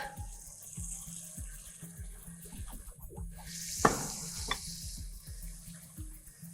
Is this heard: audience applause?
no